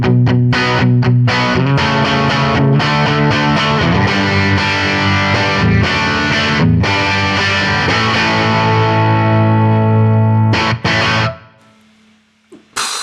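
An electric guitar is played through a cranked FM3 Gibtone Scout amp model, giving loud, thick, distorted chords and sustained notes for about eleven seconds before cutting to a quiet hiss and a final pluck.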